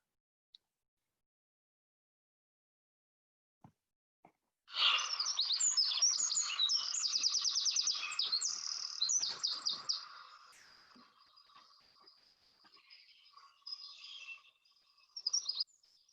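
Recorded bird song from a bird guide plays after a few faint clicks, starting as a loud, rapid run of bright chirps and trills, then thinning into quieter scattered calls with a final short burst.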